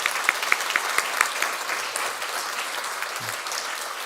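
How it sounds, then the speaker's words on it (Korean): A church congregation applauds after an infant baptism during a Sunday morning service, steady clapping from many hands with a few sharper claps at the start, filling the whole space and fading slightly toward the end. "우리 박수하겠습니다."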